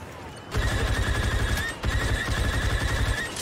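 Rapid blaster fire in the video game Star Wars: Battlefront 2 comes in two sustained bursts of fast repeating shots, loud and close, with a brief break between them.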